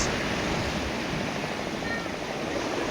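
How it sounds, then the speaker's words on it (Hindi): Sea waves at Gopalpur beach in Odisha roar loudly and without a break, a dense wash of surf with no voices heard. "ये समुद्र की लहरों को देखिए, समुद्र की आवाज़ों को सुनिए।"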